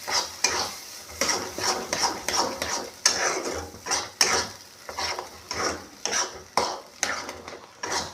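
Red lentils go into a pan for an egg dal tarka and are stirred, with a steady run of scraping spoon strokes against the metal pan and a light sizzle underneath, close and fairly loud.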